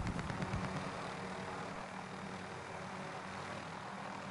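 A helicopter flies through a Call of Duty: Warzone match, giving a steady, fairly loud rotor-and-engine drone that stays constant throughout.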